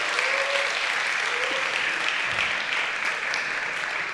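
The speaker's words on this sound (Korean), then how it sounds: "한번 박수로 응원해 주시면 감사하겠습니다." Warm applause from a young adults' church congregation during a Sunday worship service, a steady close wash of clapping lasting several seconds with no voices over it.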